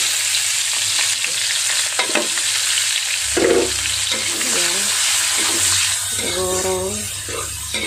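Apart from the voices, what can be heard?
onions frying in hot used fish oil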